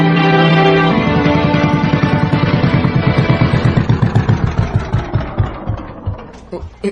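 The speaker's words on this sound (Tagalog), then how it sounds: "Nagka-problema man ang makina sa pambot. Patay-patay man ang andar." Pump boat engine with a problem, running unevenly then sputtering in a slowing series of putts before it stalls, loud and close.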